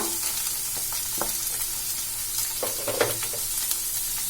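Grated carrot and chopped green chilli being stir-fried in a pan with curry leaves, giving a steady close sizzle broken by scattered scraping clicks of the spatula, no voices.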